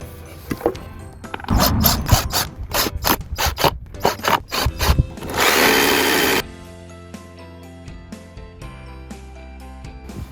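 A jigsaw cuts a wooden board inside a small pop-up kei camper van, giving a run of sharp rasping bursts, then a steady loud buzzing stretch that stops abruptly into quieter mechanical background.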